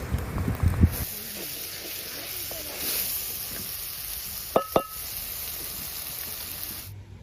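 Boiled goat tripe (boti) hits a hot pan and sizzles with a steady, close hiss for several seconds, with a couple of sharp utensil clinks partway through.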